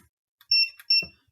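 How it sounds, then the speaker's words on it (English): A multimeter gives two sharp, loud electronic beeps in quick succession while a laptop motherboard is tested, an Asus X1500E with no power and a shorted CPU inductor, alone with no talking. "We'll get the machine that goes"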